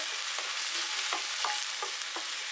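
Onions being sautéed and stirred in a pan for horsegram chutney, a steady soft sizzle broken by several light scraping stirs, close and moderately quiet with no talking.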